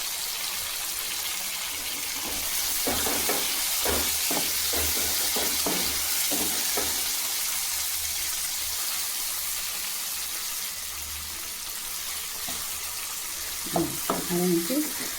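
Cauliflower goes into a pan of sautéed onion and tomato, producing a continuous frying hiss with a run of stirring scrapes and taps, then a few utensil clatters near the end.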